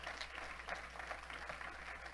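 Congregation applauding in a church service, a steady, fairly faint wash of clapping hands throughout with no talk.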